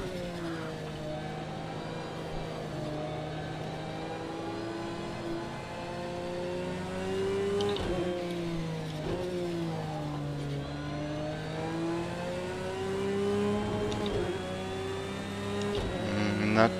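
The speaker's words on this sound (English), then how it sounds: "I knew going in that the tire noise, the engine sounds were not the best thing in Project Cars" Racing cars in Project Cars 2 drone with a steady, rising and falling engine note and tire noise, sustained and loud throughout without talk.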